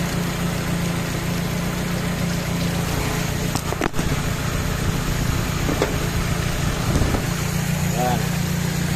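A Nissan engine converted from fuel injection to a stock carburetor with an electronic fuel pump runs at a steady low drone close by, with someone talking over it much of the time.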